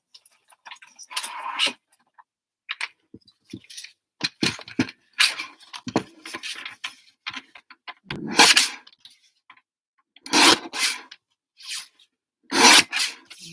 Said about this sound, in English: I will grab my guillotine